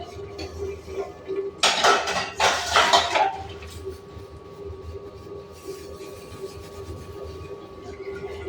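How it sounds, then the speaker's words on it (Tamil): Dishes, pots and pans clatter and clink loudly for a couple of seconds while being washed in a home kitchen. A steady background hum continues afterward with only faint scattered knocks. "பாத்திரத்தை நம்ம விளக்கி முடிச்சிடலாம்"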